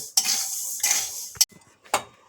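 Mung dal being dry-fried and stirred in a pan for a Bengali fish-head mung dal, heard as several close, sharp scraping strokes of a metal spatula against the pan with short pauses between them.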